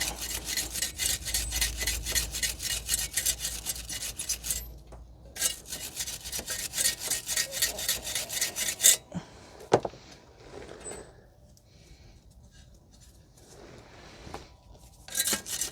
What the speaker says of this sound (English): You can use a wire wheel or a wire brush to clean the outer surface on the outside.